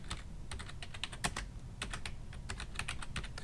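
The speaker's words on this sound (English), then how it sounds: "Now I'm just going to type overhead expense." Quick bursts of typing on a computer keyboard while entering a chart axis title in an Excel spreadsheet, with crisp clicking keystrokes in uneven clusters and short pauses, close and fairly quiet, with no voice.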